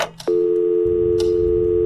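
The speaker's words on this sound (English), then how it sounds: "I wanted to dial another number. Oh, I hate this noise." A telephone dial tone in the horror game Scratches: Director's Cut: a short click, then a loud, steady, unbroken electronic tone that hums on over a low background rumble.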